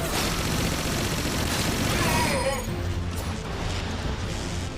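Submachine gun fire in the Transformers: Dark of the Moon video game, a dense continuous burst of loud rapid shots with mechanical clatter for about two seconds, then quieter game sounds and effects under a faint voice.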